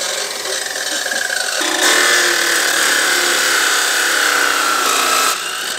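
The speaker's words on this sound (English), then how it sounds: "Now we're gonna cut the threads off so that we have just that smooth shaft." A power tool cuts the threads off a metal bolt shaft while a John Deere Gator clutch is being removed, giving a loud, sustained grinding rasp that swells in the middle and then drops off near the end.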